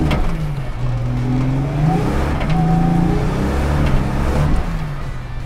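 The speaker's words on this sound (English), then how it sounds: "That was just first and second gear and feathering the throttle." A rare Dick Johnson Ford Falcon XE Grand Prix Turbo accelerates hard through first and second gear with the throttle feathered against poor traction, its loud, close engine note climbing steadily in pitch and then rising again after the shift.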